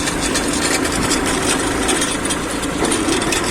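A laser land-leveling machine's engine running steadily nearby, a loud continuous droning rumble with no breaks and no voices.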